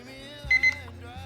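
Keekit digital alarm clock sounding its alarm, a couple of short electronic beeps over a faint background hum.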